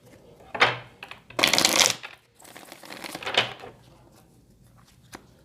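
A deck of Wisdom of the Night oracle cards is shuffled by hand in several quick riffling bursts with brief pauses between them, close and fairly quiet, with no talking.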